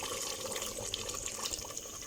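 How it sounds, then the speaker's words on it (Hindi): Water poured into a pressure cooker holding pea and meat gravy, a steady continuous splashing pour lasting the whole moment, close and fairly loud with no talking. "अब मैं इसमें इतना पानी डाल लें जितना कि आपको ग्रेवी चाहिए।"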